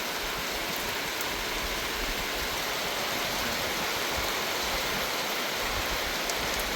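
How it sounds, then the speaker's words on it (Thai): Soft, even patter of light rain falling steadily in a forest, a gentle continuous wash with no voices. "ฝนบางๆนะ"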